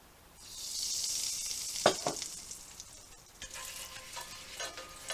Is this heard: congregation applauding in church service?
no